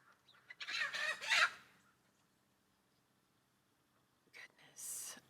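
Two short bursts of chicken clucking a few seconds apart, fairly close, separated by near silence.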